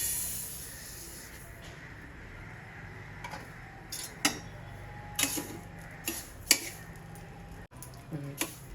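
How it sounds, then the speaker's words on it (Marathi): Finger millet crackles while dry-roasting in a pan, giving a faint hiss with scattered small pops and ticks that grow more frequent toward the end. "नाचणी बघा अशी फुलायला लागली आणि याचा आवाज यायला चटचट चटचट, म्हणजे आपली नाचणी छान भाजून झाली।"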